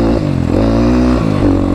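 A dirt bike rides off-road on rough Nepali roads, its engine droning loud and close with steady rumbling and slight pitch shifts as the throttle changes.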